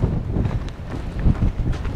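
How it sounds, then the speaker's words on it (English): Strong wind in Wyoming's Wind River Range buffets the microphone in rough, uneven gusts, a low blustery rumble throughout. "Getting some very nasty gusts of wind, like blow you over almost nasty."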